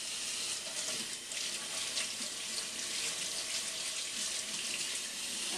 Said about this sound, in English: And what I like to do is put warm water.